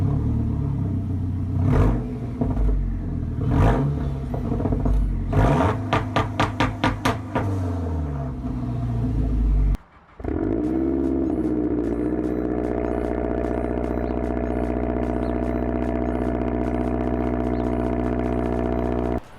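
A Mazdaspeed 3's exhaust with a CPE catted downpipe rumbles and pops through a few quick revs, then settles into a steady, loud idle drone with a deep, throaty tone.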